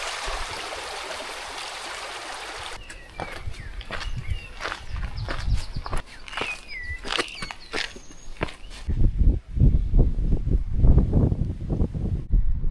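Footsteps crunch along a trail on a windy volcanic island, a steady walking rhythm that grows louder and closer toward the end, with rushing wind or water and occasional bird calls in the background.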